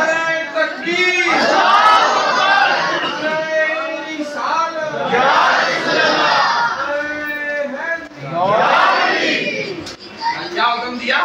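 Crowd at a Shab-e-Barat religious gathering chanting takbir in unison, loud and near, several surging shouted responses filling the whole clip.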